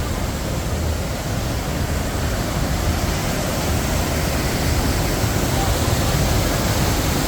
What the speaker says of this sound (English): The waterfall is up and running.